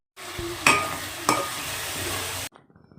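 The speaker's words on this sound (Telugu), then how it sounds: "ఇప్పుడు టమాటాలు పూర్తిగా ఫ్రై అయ్యిందని మనం తెలియడానికి ఇలా ఆయిల్ అంతా బయటికి వస్తుంది" Tomatoes fry in oil in a pan with a close, steady sizzle, broken by two distinct scrapes of a spoon stirring before the sound cuts off abruptly.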